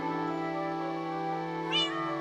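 A cat in the Minecraft video game gives a sustained, tonal meow that rises in pitch near the end, close and clear over a steady background.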